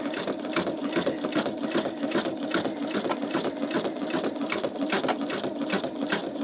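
A sewing machine stitches through a greeting card with a rapid, even mechanical chatter that holds steady and close throughout, with no talking.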